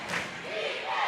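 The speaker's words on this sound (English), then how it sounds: "And it brings this crowd alive once again" A high school basketball crowd at a 3A regional semifinal roaring after a basket, a brief, dense wash of cheering voices filling the gym at close range.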